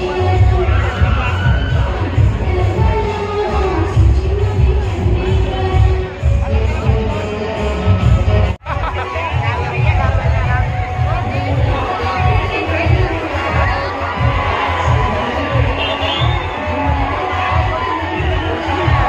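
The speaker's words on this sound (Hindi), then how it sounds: "बहुत ज़्यादा ही भीड़ है, देख सकते हो इधर बहुत लोग आए हुए हैं" Dense, loud crowd noise from a large gathering at an outdoor dance event at Ajgar Chowk in Kasdol, with steady low thumping music beneath the murmur, continuous throughout apart from one brief dropout.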